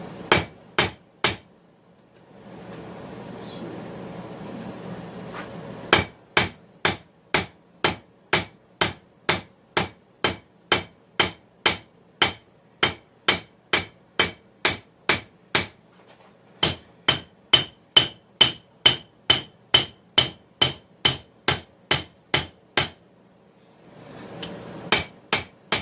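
Hammer blows on hot steel while forging a knife from a farrier rasp, loud sharp ringing strikes in long steady runs of even rhythm, broken by short pauses with a low roar of the forge or blower.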